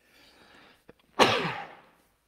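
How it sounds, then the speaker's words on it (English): A single loud sneeze up close, preceded by a quick breathy intake and a short click. "This place gave me the sneezes."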